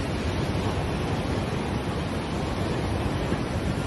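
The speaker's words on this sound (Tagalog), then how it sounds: "Malakas ang alon." Heavy ocean surf at a beach roars in a dense, continuous wash of crashing water, loud and close with no pauses, and no voices over it.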